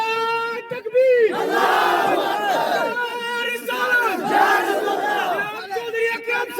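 Crowd at an independent candidate's political rally in Kallar Katt, Surankote, chanting slogans in loud, rhythmic unison, with repeated call-and-response bursts and swelling group shouts.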